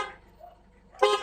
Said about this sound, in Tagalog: Ito, stock horn lang yan. Yan yung horn natin,